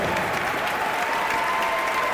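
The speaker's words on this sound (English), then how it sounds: "Now please give them a mighty round of applause." Full, even applause fills a high school and STEM magnet graduation ceremony as the audience honors faculty and staff, a dense wash of many hands clapping at a steady level for the whole short stretch.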